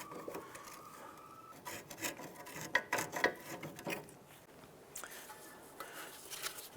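A pry bar levers and scrapes as a Honda Civic front knuckle is worked off the strut with the CV axle, giving irregular metallic rubbing and scraping with a few sharper clinks, close and moderately loud.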